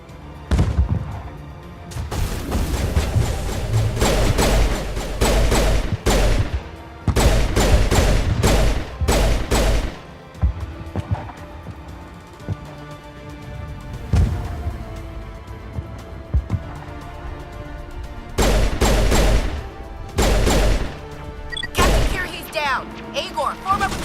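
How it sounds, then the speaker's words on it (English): Heavy gunfire in the video game Mass Effect, loud repeated bursts and volleys of shots aimed at the player, separated by short lulls, with talk over parts of the action. "Somebody shot at us."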